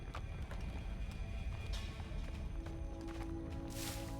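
Grace's footsteps in the game Lost Words: Beyond the Page, a run of soft rhythmic steps with clopping character, fairly close and moderate in level, ending with a brief airy swell.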